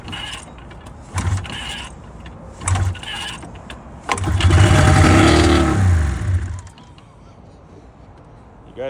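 An old snowmobile with no air box, a rare $200 find that had not run in four years, gets two short cranking pulls before the engine fires and revs roughly for about two seconds, then dies.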